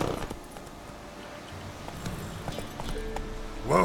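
Roach, the horse in Witcher 3, moves with a run of scattered hoof clip-clops over a quiet background, ending in a brief louder burst.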